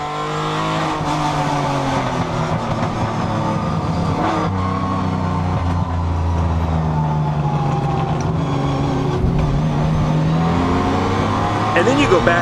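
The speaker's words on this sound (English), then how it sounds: "his red Aston Martin battling 2 gold medallion Cobras in the Group 4 race" Vintage race cars, a red Aston Martin battling two gold Cobras in a Group 4 race at the Amelia Island vintage Grand Prix, roar continuously with rising and falling engine notes, loud and close under a narrator's voice.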